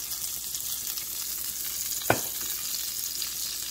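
Olive oil sizzles in a saucepan with a soft, steady frying hiss throughout, broken by one brief sharp clink midway.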